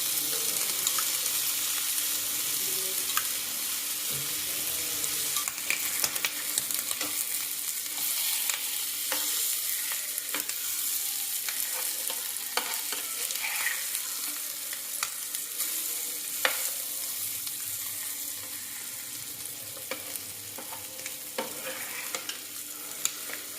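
Nagli fish frying in coconut oil on a flat tava, a steady close crackling sizzle running throughout with small sharp pops and spatters, no talking.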